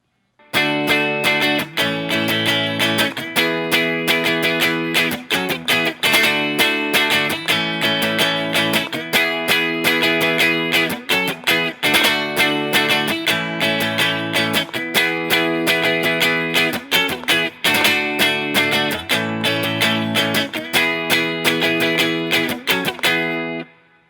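Electric guitar with a driven, effected tone strums a song's chord progression, loud steady rhythmic strums repeating the cycle several times with no talking.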